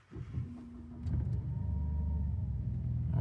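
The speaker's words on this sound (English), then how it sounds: "Please run the engine and keep it idle." A Ford Focus or Fiesta engine cranks and fires up, then settles into a steady low idle rumble heard up close with a faint whine running through it.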